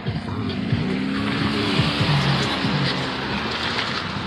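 Cars rush past nearby on a road during a walk, a continuous roadside wash of traffic noise with engine drone and tire hiss. Faint voices sit low under it.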